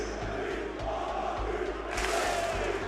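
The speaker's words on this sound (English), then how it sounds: "The crowd is absolutely pumping right now." A large crowd chants rhythmically during a timeout at the Copperbox Arena in London at an esports major, a loud, dense roar with steady pulsing beats and a swell of cheering near the end.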